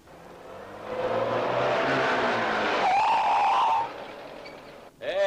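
A car sweeps past on a road, its engine and tire noise swelling from near silence, holding loud for a few seconds, then fading away as it goes by, ending in a brief rising squeal-like tone.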